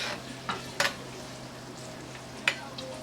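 Shrimp sauté in a hot pan with a continuous hiss, broken by a few sharp utensil scrapes and taps as the pan is stirred.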